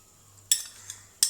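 A metal spoon scrapes and clinks against a dish while scooping onion during home cooking, two sharp quiet taps with a faint scrape between them over a low background hum.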